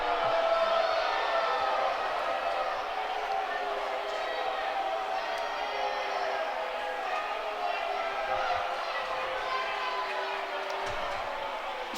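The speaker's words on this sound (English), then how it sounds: "The crowd doesn't like it." Spectators at a high school varsity football game keep up a sustained, restless murmur of disapproval after a call is ruled no good, with scattered shouts and a few claps in the mix.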